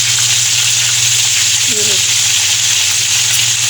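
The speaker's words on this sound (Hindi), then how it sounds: "स्लो फ्लेम पे आपने ये फ्राई करनी फिश" Fish fries in a pan over a slow flame, giving a loud, steady, even sizzle that runs unbroken throughout, with a brief faint sound briefly rising in the middle.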